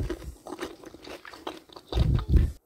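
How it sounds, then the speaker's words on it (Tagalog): Close crunching bites and chewing of crisp food, with two louder crunches near the end before it cuts off. "malutong siya, pakinggan nyo"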